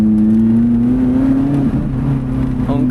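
A Lotus Elise sports car drives on a bumpy road, its engine holding a loud steady drone close up and then dropping slightly as it brakes hard, with no talking.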